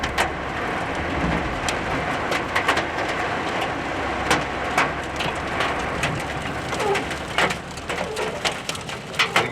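A hailstorm on open flat ground during a South African safari hunt, with dense rain and hail hammering down continuously and sharp hailstone impacts cracking loudly throughout.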